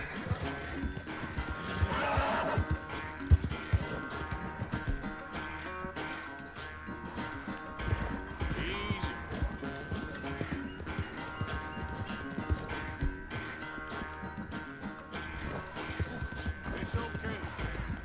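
Horse hooves clip-clop steadily through a long stretch of a race in Red Dead Redemption 2, with a whinny or two, game music and voices running beneath the rhythmic gallop.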